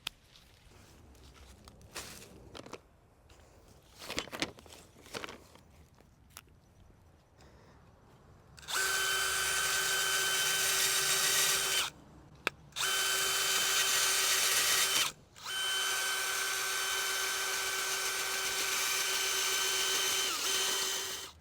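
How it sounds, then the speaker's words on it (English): A power planter auger bores holes in garden soil for spring bulbs: after quiet footsteps and handling, a loud, high drill whine runs in three long bursts separated by short pauses. "Now what I'm doing is I'm creating multiple holes with the power planter Auger"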